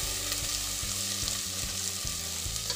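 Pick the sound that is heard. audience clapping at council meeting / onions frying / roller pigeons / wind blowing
onions frying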